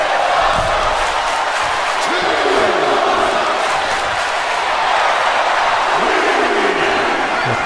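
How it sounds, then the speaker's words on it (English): Wrestling crowd at an independent tag-team championship show roars steadily after a high-flying move, a loud continuous arena cheer with scattered shouts throughout. "The crowd are enjoying themselves."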